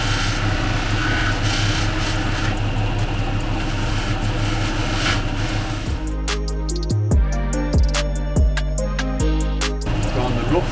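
A polishing wheel hums loudly and constantly while an engraved KillerBee tattoo machine is pressed against it, then the motor winds down and spins up again in the second half with shifting tones.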